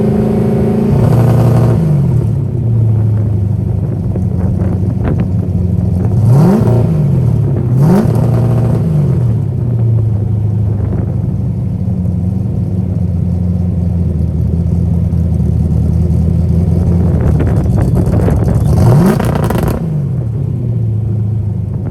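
A Foxbody car engine with an MSD 6AL2 ignition two-stepping, with a loud, rumbling idle broken by repeated sharp rev bursts that rise and fall, heard close with some wind noise.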